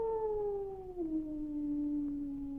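A dog howls in one long, mournful, wavering note that slowly slides downward, sounding alone and fairly close with nothing else around it.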